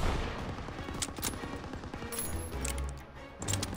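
Machine-gun fire in a Call of Duty WWII battle: bursts of rapid shots in quick rattling strings, fairly faint, with scattered louder cracks and impacts among them.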